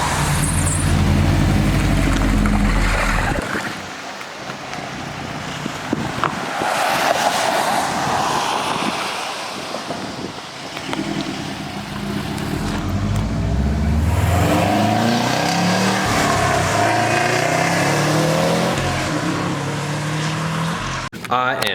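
A 2006 Subaru STI fitted with a cheap catless downpipe drives along, its engine droning and rising through revs with passing road and traffic noise, loud and close throughout, with talking over parts of it.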